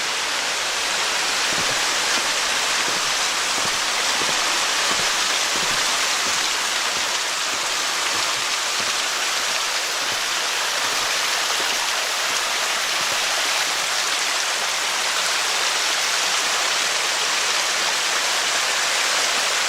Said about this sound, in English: Now let's see the waterfall.